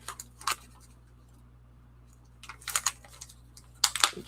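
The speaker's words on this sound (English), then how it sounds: "Remarkably tough little zippers on these zipper bags." A tough little plastic zipper bag holding tulip bulbs is tugged open in several bursts of crisp crinkling and snapping, close up, separated by a quiet pause, with no talking.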